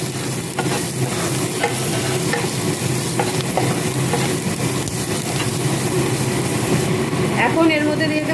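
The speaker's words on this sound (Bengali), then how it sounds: "এখন ওর মধ্যে দিয়ে দেবো লবণ, দিয়ে দেবো হলুদ, আবার কিছুক্ষণ নেড়ে নেব" Fried onions with added salt and turmeric are stirred in a pan, a steady loud sizzle with scraping strokes throughout and a voice talking faintly over it toward the end.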